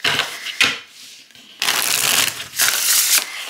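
An Everyday Witch tarot deck with Llewellyn cardstock is shuffled by hand, close and crisp, with a short riffle followed by longer rustling bursts and a brief pause between.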